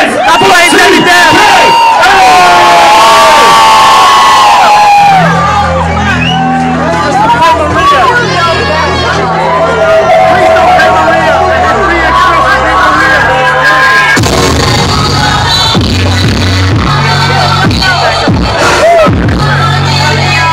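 A concert crowd cheers and shouts loudly, a dense roar of voices after a call to make noise, while music with a pulsing beat starts up underneath.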